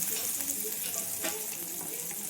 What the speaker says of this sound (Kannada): ಈಗ ಇದನ್ನು ಚೂರು ಫ್ರೈ ಮಾಡ್ಕೊಳ್ಳೋಣ